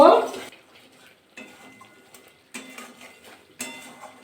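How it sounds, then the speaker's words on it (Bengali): Spice masala with turmeric and salt is stir-fried in a pan for a cauliflower chaap, giving a close loud scrape followed by quieter intermittent stirring clinks and faint sizzle, no talk. "সব উপকরণ দিয়ে ভালো করে মশলাটা কষিয়ে নেব"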